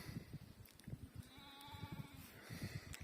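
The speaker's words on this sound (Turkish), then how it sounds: "Anaç koyun önünde." A mother ewe with her lamb bleats several times, a harmonic wavering call standing out over a low, rustling outdoor background of a sheep flock on open pasture.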